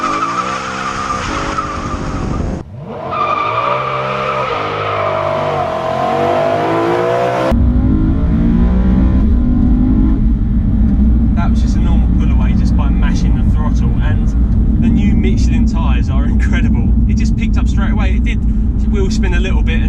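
A BMW E92 M3 pulls away from a standstill under launch control, its engine roaring loudly as it climbs through the revs, then settling into a sustained heavy drone with a brief tyre squeal, heard from inside the car.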